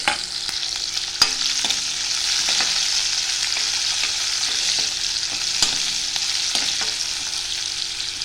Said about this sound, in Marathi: आता टाकतोय टोमॅटो.